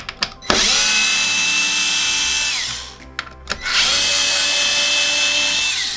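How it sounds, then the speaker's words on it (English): A power screwdriver backs long main body screws out of a Microsoft Xbox One X console, whining steadily in two long runs with brief clicks and pauses between them, close and loud. "And then we're going to unscrew these 2, 4, and 6 screws."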